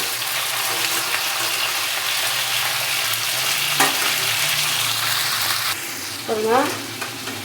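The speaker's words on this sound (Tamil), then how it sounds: "பாருங்கள், முள்ளங்கி போட்டுக்கலாங்க." Radish and onion sizzle in hot oil in a pan, a steady frying hiss that continues while a spoon stirs, with a brief spoken word partway through.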